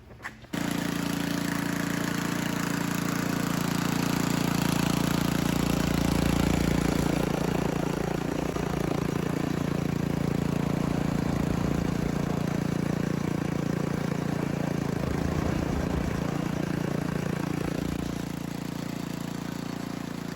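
A freshly started snowblower engine runs steadily at a loud, close, even idle for about twenty seconds, with no one speaking over it.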